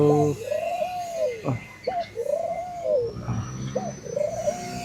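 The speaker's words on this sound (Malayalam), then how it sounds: "ഇതിൽ ലവ് ബേർഡ്സ് ഉണ്ട്, പിന്നെ കുറേ അധികം പ്രാവുകളുണ്ട്." Pigeons cooing near a beach cottage in Lamai, Koh Samui, with repeated rising-and-falling coos close by and brief chirps between them.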